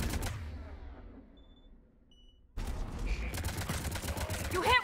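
Gunfire in Mass Effect 3 during a combat firefight: a dense burst of rapid shots and impacts in the second half, after a quieter stretch, with voices talking over the action.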